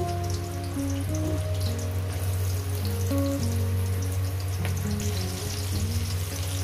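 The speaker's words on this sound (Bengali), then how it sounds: "প্রথমেই আমি আলুগুলোকে লাল লাল করে ভেজে তুলে নেবেন" Potatoes frying in hot oil in a kitchen pan, a continuous crackling sizzle with scattered pops over a steady low hum, close and moderately loud.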